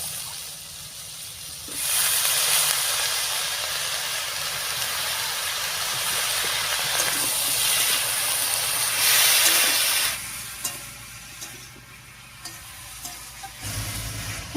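Chopped Malabar spinach (pui shak) goes into a pan of vegetables cooked with turmeric and salt, setting off a loud, sustained sizzling hiss for several seconds before it settles into a quieter simmer.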